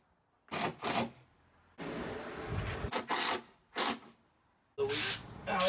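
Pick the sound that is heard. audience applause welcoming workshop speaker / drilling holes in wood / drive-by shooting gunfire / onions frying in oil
drilling holes in wood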